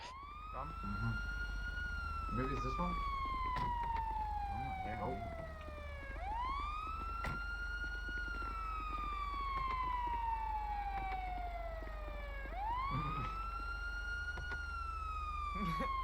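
A siren wails continuously through the scene, its pitch sweeping up sharply and then sliding slowly down in long repeating cycles of about six seconds, steady and fairly prominent while people talk casually over it.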